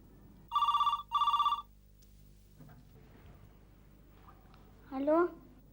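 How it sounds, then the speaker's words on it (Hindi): A telephone bell rings twice in two close bursts, loud and clear, and then quiet room sound and a voice follow. "ये जरूर मिस्टर बजाज का फोन था।"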